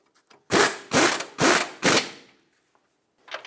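Four bursts of ratcheting on a tie rod mounting nut as a 2008-2012 Honda Accord front outer tie rod is installed in the steering knuckle, each clicking burst about half a second long, close and loud, followed by quiet.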